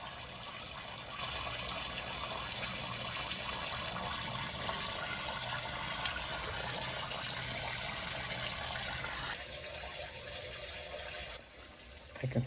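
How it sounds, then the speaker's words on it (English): Water leaking from a pinhole leak in a pipe in a crawlspace, a steady loud hiss and spray that runs on for about nine seconds, then drops to a fainter trickle. "From the same hole, you could have a small amount of water or a large amount"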